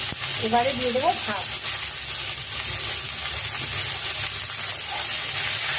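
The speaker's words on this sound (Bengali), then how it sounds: "সজনে শাক দিয়ে ঘন ঘন নাড়তে হয়।" Drumstick (moringa) leaves fry in a pan over chopped onion with salt and are stirred, giving a steady, close sizzling hiss throughout; a brief voice sounds near the start.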